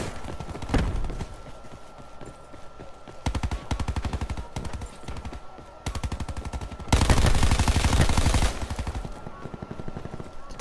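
Rapid gunfire bursts from the shooter Black Ops 4 in a prop hunt match, several separate automatic volleys of varying loudness with brief pauses between them and no talking.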